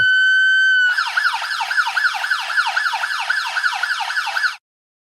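An emergency siren from the Siren Control System in Unreal Engine 5 starts with a steady tone, then switches to loud, rapidly repeating rising-and-falling sweeps that run alone for several seconds before cutting off abruptly into silence.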